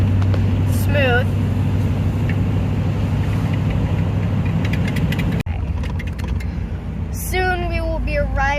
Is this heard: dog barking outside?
no